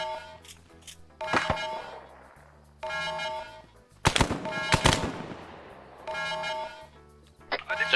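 Suppressed gunfire in a tactical shooter video game, with a mission set in Argentina, comes as several close bursts of sharp shots in separate clusters, some rapid and overlapping, while voices talk over the game.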